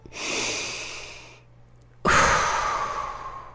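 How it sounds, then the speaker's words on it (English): One slow, deliberate deep breath, a long soft inhale, then a pause and a clear, heavier exhale, close to the microphone in a quiet room with no talking. "We're just going to take a breath in and a breath out."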